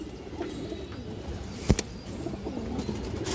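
Pigeons coo softly in low, throaty murmurs close by, with a brief flutter or knock partway through and steady background noise.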